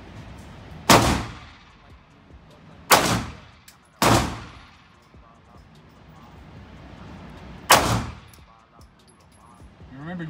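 A Zigana Model F pistol is fired four times in a loud, unevenly spaced series at an outdoor range. Each crack rings with a short metallic tail and fades before the next. Faint background noise fills the gaps.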